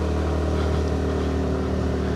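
A Suzuki Next Crossover motorbike engine hums steadily while riding, a close, constant low drone with no talk.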